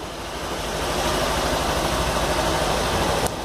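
A new Kawasaki Versys X 300 motorcycle engine runs at a steady idle, a close, continuous buzzing rumble that holds an even level for the whole stretch.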